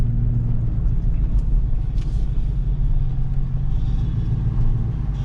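A 2007 Chevrolet Silverado's 4.8 V8 Gen 4 LS engine with bolt-on parts runs close by with a steady, deep rumble that holds fairly even throughout.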